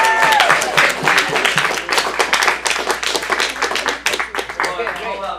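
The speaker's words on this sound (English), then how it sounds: "let's give you guys a big round of applause" Audience at an adult acting studio script showcase claps enthusiastically, a dense burst of many hands that stays strong and gradually thins, with a few voices and cheers mixed in.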